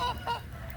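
A goose honks outdoors on a rainy Easter weekend, two short nasal honks close by with a brief gap between them, then quieter rustling ambience.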